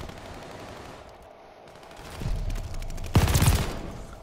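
An MG42 machine gun in Call of Duty Vanguard fires two bursts, a shorter one and then a louder, sharper volley, after a quiet stretch of faint background game ambience.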